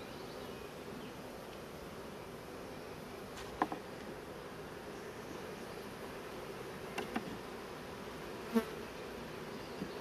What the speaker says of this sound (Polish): kręcą się tutaj pszczoły chyba bardziej niż w tym pierwszym ulu